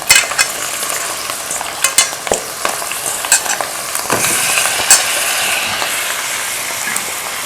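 A kilo of chicken fries in a hot pan with a loud, continuous close sizzle, broken by sharp scraping and clinking strokes of a utensil stirring it, with no talk.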